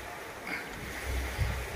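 Sea waves wash onto the shore at Tithal beach in Valsad, a broad steady surf roar with gusts of wind buffeting the microphone and no voices.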